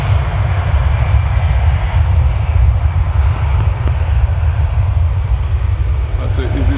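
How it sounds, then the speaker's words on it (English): EasyJet Airbus A320 jet airliner taking off at full power from Paris Orly runway 08, a loud continuous low engine roar holding steady throughout. "That's the EasyJet A320."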